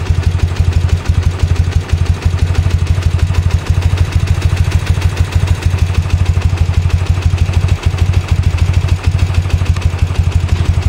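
A 1972 BMW R60/5 motorcycle engine with carburetor trouble runs loud and close, a steady low throbbing beat with occasional uneven pulses where it skips slightly, with no voices.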